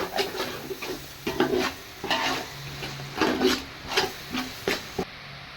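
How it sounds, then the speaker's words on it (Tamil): Coriander and mint being stirred into chicken biryani in a pot, heard as repeated scraping, rubbing strokes of a spoon, close and moderately loud, with no talking. "மல்லியும் புதினாவையும் சேர்த்து நல்லா ஒரு கிண்டி விட்டுக்கலாம்"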